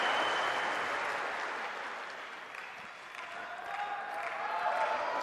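Steady applause from a crowd at a Wimbledon tennis match between Sabalenka and Raducanu, a continuous wash of clapping at moderate distance that dips slightly in the middle before swelling again.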